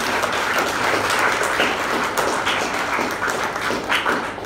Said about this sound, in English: well-deserved round of applause to our Greenview graduates